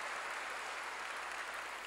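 A church congregation claps steadily during a sermon, in a brief, even burst of applause heard at a distance.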